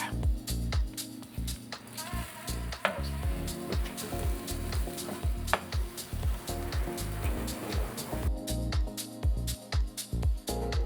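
A brisket grilled cheese sandwich with melting cheese sizzling in a pan, a steady frying crackle under repeated sharp clicks and knocks from cooking utensils throughout.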